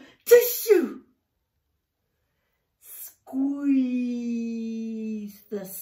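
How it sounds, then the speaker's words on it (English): A single sharp sneeze bursts out near the start, followed after a pause by a drawn-out whimpering, moaning voice and a brief breathy sound at the end. "Squeeze the sneeze."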